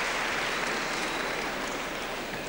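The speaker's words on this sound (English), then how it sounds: "And the coaches immediately" Coaches applaud at a 1992 European Gymnastics Championships event final after a gymnast's double layout landing, a dense, steady wash of clapping filling the whole stretch without a break.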